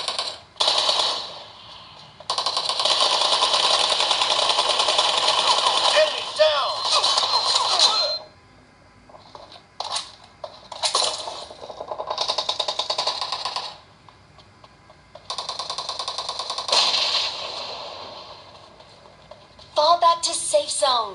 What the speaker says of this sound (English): let's just show you a quick sample of the gaming with the triggers enabled